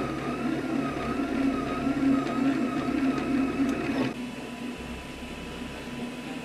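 A 3D printer lays down the outline of its first layer, a steady motorized whine with shifting stepper tones and a fan hum running throughout, dropping slightly in level partway through.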